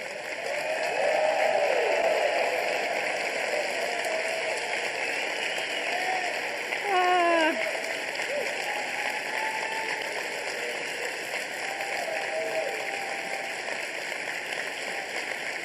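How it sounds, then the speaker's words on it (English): Audience giving a standing ovation, steady applause that carries on for about fifteen seconds at a moderate, even level, with a brief burst of voices partway through. "so everybody, let's do that standing ovation"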